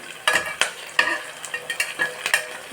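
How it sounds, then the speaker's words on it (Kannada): Cinnamon, cloves, onion and green chili frying in oil, stirred with a utensil that scrapes and taps the pan in a fairly regular rhythm over a continuous close sizzle; no voices. "ನಾನಿಲ್ಲಿ ಚಕ್ಕೆ, ಲವಂಗ, ಈರುಳ್ಳಿ, ಆಮೇಲೆ ಹಸಿಮೆಣ್ಸಿನ್ಕಾಯಿ ಎಲ್ಲ ಫ್ರೈ ಮಾಡ್ತಾಯಿದ್ದೀನಿ ಆಯಿಲಲ್ಲಿ"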